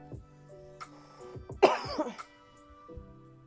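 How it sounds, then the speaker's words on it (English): A single strong cough breaks through a quiet background, close to the listener, followed by a brief rasp and then near silence. "I coughed."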